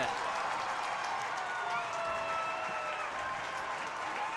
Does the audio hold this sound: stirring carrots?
no